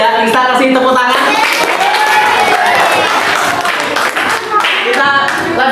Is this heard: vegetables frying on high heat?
no